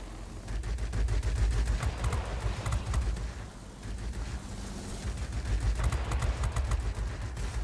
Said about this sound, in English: Shredding him with these cannons.